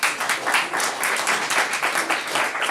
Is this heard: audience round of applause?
yes